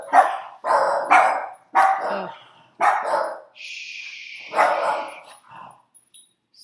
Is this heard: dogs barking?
yes